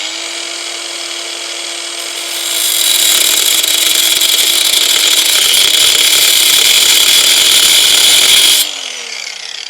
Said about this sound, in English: we'll do a manual chamfer just where I ground that little groove in